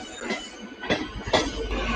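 A 15-car fast local train at Chhatrapati Shivaji Maharaj Terminus rumbles close by, with wheel and rail noise and two louder surges of clatter over a steady low roar.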